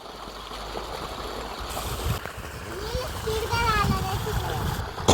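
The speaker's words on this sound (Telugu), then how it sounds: "ఆ పైప్లో నుంచి వాటర్ వస్తుంటే దాంట్లతో చూడండి ఎంత బాగా ఆడుకుంటున్నారో." Water gushes steadily from a pipe in a mango orchard while children splash and play in it, a continuous rushing wash with scattered splashes and children's voices over it.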